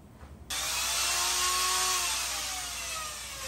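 A rotary tool with a burr spins at 2000 RPM while porting a cylinder head, starting abruptly into a loud, steady high whine that holds for several seconds with slight shifts in pitch.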